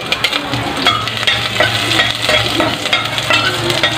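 Garlic fries in oil for Filipino chicken tinola, crackling and sizzling steadily as a utensil scrapes and stirs it around the pan in frequent close, busy strokes.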